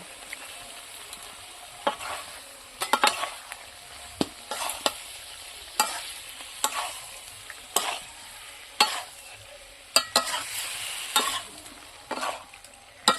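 Cauliflower and potato cooked with spices and curd sizzle quietly in the pan while a spoon scrapes and knocks at uneven intervals, the stirring sounds sharp and close and no one speaking.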